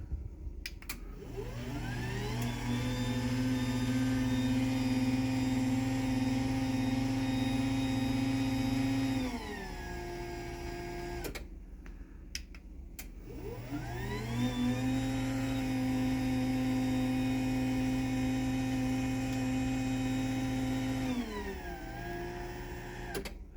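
A LiftMaster 8355W or 84501 garage door opener motor runs in two long cycles, each a loud, steady whirring hum with a vacuum-like tone that ramps up, holds, then winds down with a brief pause between.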